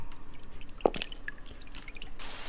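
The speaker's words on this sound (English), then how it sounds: "I'm going to use another water bottle here." A water bottle being used in the video game Amayado Bus Stop gives a single short, wet drip or splash, faint against a soft background hiss, followed by a brief burst of noise near the end.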